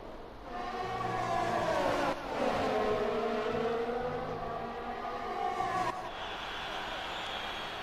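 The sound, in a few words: F1 race cars speeding in F1 2020 video game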